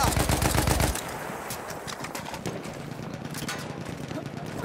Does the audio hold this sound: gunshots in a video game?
yes